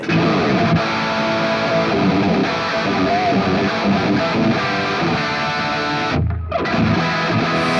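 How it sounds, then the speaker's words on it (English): A dense, distorted electric guitar through a Carvin Legacy amp tone chugs through a steady rhythm riff with no delay or reverb, loud and continuous, with one brief dip near the end. "So this is a rhythm tone using the Carvin Legacy."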